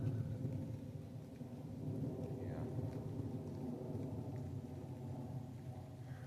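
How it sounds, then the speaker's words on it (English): Steady rain on a foggy, wet hillside just outside a tent, a dense continuous wash with low rumbling underneath, holding at an even level throughout. "You know, it's just rainy, wet, foggy."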